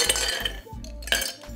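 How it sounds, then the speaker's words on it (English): Ice cubes drop and clink into a glass while a spritz cocktail is being prepared, several sharp chinks in quick succession with a low hum underneath. "let's get some ice in the glass"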